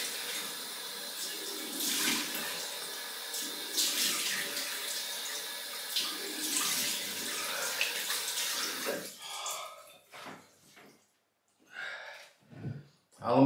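Water runs steadily from a tap for several seconds with a broad hiss, then cuts off, leaving a few brief splashes and drips.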